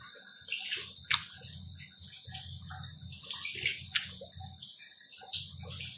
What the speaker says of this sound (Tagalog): ang tubig na malamig, yung galing sa gripo